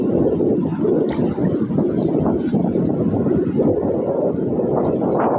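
Steady, loud wind roaring across the microphone at sea over choppy water, with continuous broadband rumble and buffeting throughout and no voices.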